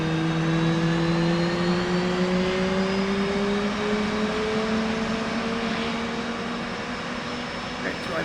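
In a flight simulator game, an F/A-18 right jet engine spools up during a cold start, a loud steady whine with tones rising slowly in pitch over a constant roaring hiss, with no talk.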